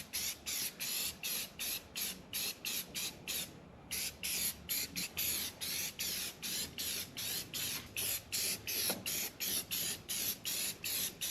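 Rust converter sprayed in short repeated aerosol bursts onto the rusty parts of a 94-year-old Ford Model A, about twenty close hissing spurts in a steady rhythm with brief gaps between them.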